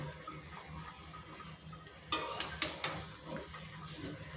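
About two kilograms of raw mango stirred in oil over medium heat for a sweet, sour and spicy jaggery pickle: quiet frying, then three quick metallic scrapes of the spoon against the pan.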